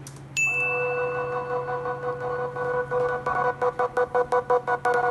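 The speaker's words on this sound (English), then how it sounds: "let's bring back the beloved sidechain noise gate. So it sounds like this now." Sustained synth pad tone chopped into rapid rhythmic pulses by a noise gate sidechained to the hi-hats, the stutter growing sharper as it continues, preceded by a brief bright ding.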